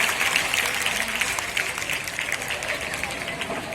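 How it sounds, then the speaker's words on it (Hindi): An audience at a prize distribution event claps loudly for the top-ranked students, a brisk, dense burst of applause that gradually thins, with a voice speaking over it. "जोरदार तालियां।"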